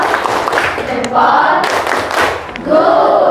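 Classroom students clapping in bursts of applause, moderately loud with scattered hand claps rising and falling over a few seconds.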